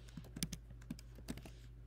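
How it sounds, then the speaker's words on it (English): A polynomial typed on a computer keyboard: a few soft, scattered key taps over a steady low electrical hum, quiet and close. "You can type some kind of polynomial in here."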